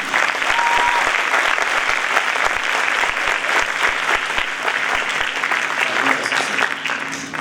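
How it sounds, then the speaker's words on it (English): Sustained audience applause for a school marching band at a winter band and chorus concert, dense steady clapping from a large crowd filling the room for several seconds before tapering slightly at the end. "So please, another round of applause for our marching band."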